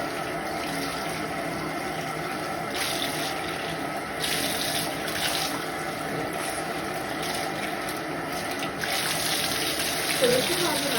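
Tap water runs steadily as bleach is rinsed out of a hair unit under the faucet, a continuous close splashing hiss with shifts in flow, no talk.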